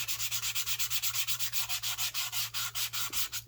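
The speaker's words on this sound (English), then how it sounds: "So this is where we're going to use our sanding block" Sanding block rubbed back and forth along a new journal's edge at an angle to age it and soften the sharp corner, giving steady rhythmic scratchy strokes, about six per second, close and clear with a low hum beneath.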